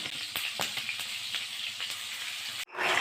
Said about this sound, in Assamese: এতিয়া মই সেই মাছ ফ্ৰাই কৰা তেলখিনিতে প্ৰথমে অলপ পিঁয়াজ দি লৈছোঁ তাৰ লগতে মই কাটি থৈ দিয়া আদা নহৰুৰ পেষ্টটো দি দিছোঁ